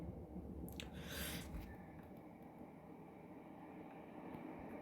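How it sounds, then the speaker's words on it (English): A passing train rumbles continuously in the background, faint and distant, with a brief brighter hiss partway through. "that was just a train that went past."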